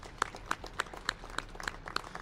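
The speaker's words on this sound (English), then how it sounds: "So let's give them a round of applause as well." At a Flag Day recognition ceremony in Colorado Springs, a single pair of hands claps in a slow, even rhythm, about eight distinct claps, fairly faint over a quiet room.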